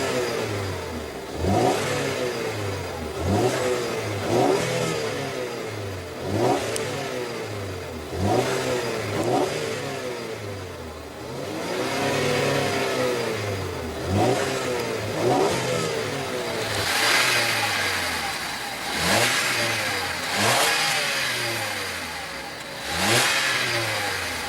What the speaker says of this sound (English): let's go ahead and rev up the Fusion and see how that 4-cylinder turbo sounds